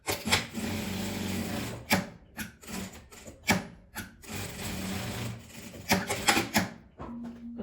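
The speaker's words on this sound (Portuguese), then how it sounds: "Vou passar uma costura na lateral." Sewing machine stitching along the side of a fabric beret in short bursts of rapid whirring separated by brief pauses, close and fairly quiet, with no talking.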